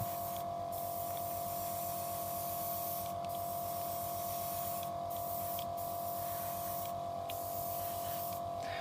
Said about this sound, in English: you'll learn with airbrush use that you don't always need to